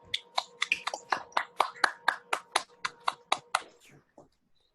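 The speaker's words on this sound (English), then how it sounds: "Interns, please unmute yourselves and give each other a much deserved round of applause." Interns clapping over a video call, a dozen or so distinct, evenly spaced claps from a single nearby pair of hands, fairly faint and compressed, ending with a couple of softer taps.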